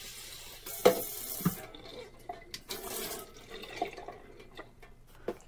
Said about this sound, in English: Dump the seeds and remaining water into a strainer and rinse well.